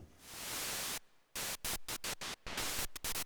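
Noise source of a Sequential Prophet 5 analog synthesizer: loud, bright hiss held for about a second, then a pause, then a series of quick rhythmic gated bursts of noise, each cut off sharply, with no talking.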